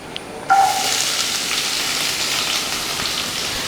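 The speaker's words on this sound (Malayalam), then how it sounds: "ഇനി നമുക്ക് ഇതിനകത്തോട്ട് അരിഞ്ഞു വെച്ചിരിക്കുന്ന സവാള ചേർത്ത് കൊടുക്കാം" Chopped onions hit a hot pan of oil with green chillies while potato masala for instant rava dosa is being made. After a brief quiet moment a loud, sudden sizzle erupts and settles into a steady, close frying hiss.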